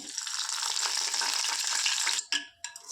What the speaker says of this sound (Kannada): ಇವಾಗ ಅದೇ ಎಣ್ಣೆಗೆ ಕರ್ಬೇವು ಸೊಪ್ಪನ್ನು ಹಾಕ್ಕೊಂಡ್ಬಿಡ್ತೀನಿ ನಾನು ಬಿಸಿ ಇರುತ್ತೆ ಎಣ್ಣೆ